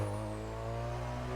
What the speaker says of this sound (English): You can hear that turbo.